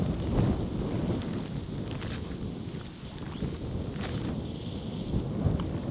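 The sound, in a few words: strong wind outdoors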